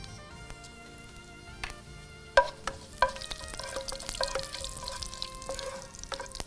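Fennel and cumin seeds splutter while tempering in hot oil, giving soft crackles and a few sharper pops near the middle, set against steady low kitchen background with no talking.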